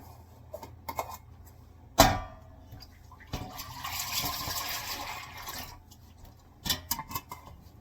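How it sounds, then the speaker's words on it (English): Raw organic whole milk pours into a big stock pot for cheddar cheesemaking: a muffled splashing stream rises after a sharp knock, with scattered clinks and bumps around it, fairly quiet and close. "we take this big stock pot, and we're going to put 3 gallons of milk in it."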